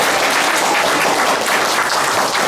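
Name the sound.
audience applause for PJ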